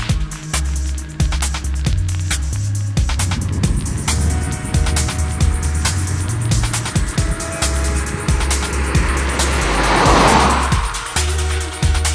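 A Mazda3 Sport 2.5 pulls away with a brief, half-hearted chirp of front wheel spin, the engine droning loud and close throughout with a rising tire squeal near the end.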